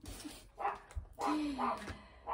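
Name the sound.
dog barking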